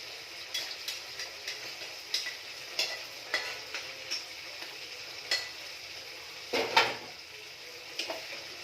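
Egg curry with fish spice simmering in a pan, a soft steady sizzle carrying a scatter of light clinks and stirring taps, one louder knock of the utensil near the end.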